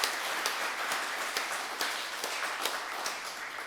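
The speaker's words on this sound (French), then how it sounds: "Et oui, on peut vous applaudir" A crowd at an academic event claps in a soft, continuous wash with a few sharper individual claps standing out, heard faintly and without speech.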